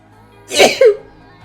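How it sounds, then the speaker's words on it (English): A single loud sneeze, close by, with a sharp breathy burst followed by a short voiced tail, over quiet background hum during a Magic: The Gathering Arena livestream. "Get ready to sneeze."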